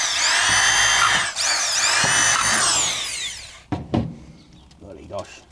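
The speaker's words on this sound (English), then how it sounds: "So I'm going to screw the box to the base so then it can't escape" A power drill drives screws into a Nuplas plastic beehive box to fix it to its base, with two loud, close whirring runs that rise and fall in pitch, followed by a few clunks and a voice speaking.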